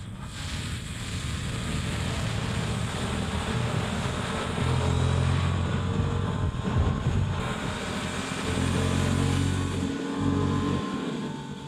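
Honda Hornet 750 motorcycle ridden on the road, its steady engine drone mixed with heavy wind rush, low rumbling tones rising and settling as the rider holds speed for several seconds.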